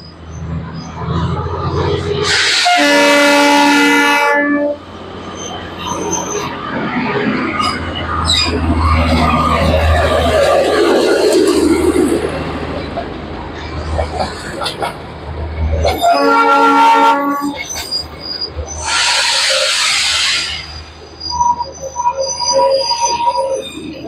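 A toy train on a hill railway passes close by, its horn sounding in loud harmonic blasts near the start, middle and end over a steady rumble of wheels and engine, with people talking in the background.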